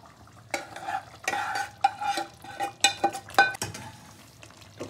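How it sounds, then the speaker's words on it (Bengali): A utensil stirs chicken with fried onion and tomato in a pan, making repeated scraping and sizzling strokes in irregular bursts. The stirring is close and fairly loud, with no talking. "এবার আমি এই পেঁয়াজ ভাজা টমেটো এইগুলো আমি মিশিয়ে দেবো"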